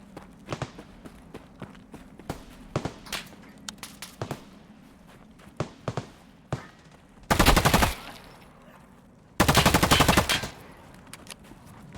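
Weapon fire in the shooter game Escape from Tarkov: single sharp shots spaced irregularly, then two loud full-auto bursts of about a second each, close and punchy.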